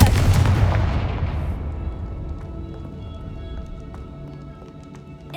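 Confringo blasting spell going off in the Hogwarts Legacy video game: one loud, booming explosive burst at the start that rolls off into a decaying rumble, with faint crackles and clicks trailing through the tail.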